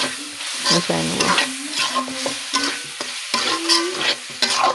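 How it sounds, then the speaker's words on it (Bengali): Boiled chickpeas and spices are stirred in a frying pan, giving a steady, close sizzle broken by repeated scraping strokes of the spoon, loud and continuous throughout with no talk. "এই যে ভালোভাবে নেড়ে চেড়ে মিশিয়ে নিচ্ছি"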